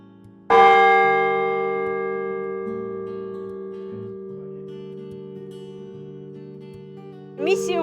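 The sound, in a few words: church bells ringing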